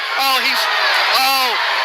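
Fight crowd whooping and cheering for Bill Hill in a bout against Jeremy Campos, with two rising yells over a steady roar of arena noise.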